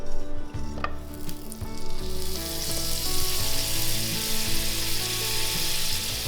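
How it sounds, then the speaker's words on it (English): A tablespoon of butter melts in a hot skillet, sizzling and crackling steadily and loudly up close, with the frying growing fuller as it goes, and no voices. "add a tablespoon of butter to this hot skillet."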